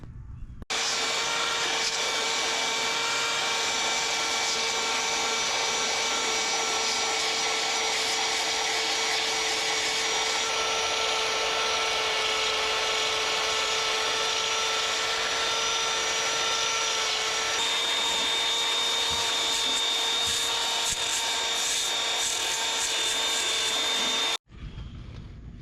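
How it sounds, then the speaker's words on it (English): Belt sander shaping a damaged fiberglass boat keel, a loud continuous grinding whir lasting over twenty seconds without a break, then cutting off abruptly near the end. "we're gonna take our belt sander and get it shaped a little better"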